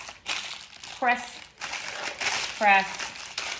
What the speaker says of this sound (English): I'm gonna take a sheet of parchment paper, make sure it's big enough, and I'm gonna lay it into the loaf pan